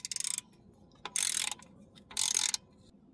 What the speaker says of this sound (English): we'll get these two bolts snugged up